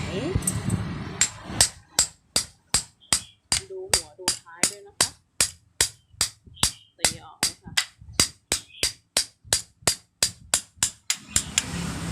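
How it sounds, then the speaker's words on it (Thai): Steady metallic hammer blows drive a new shaft into an electric fan motor in a regular rhythm, about two per second, loud and close, with brief silence between each hit. "เราต้องตอกแกนใหม่เข้าไปประมาณไหน"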